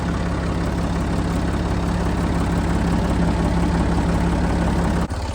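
A farm engine idles steadily after a nearly cold start, a loud, continuous low rumble with an even pulse and no voices. It cuts off abruptly near the end.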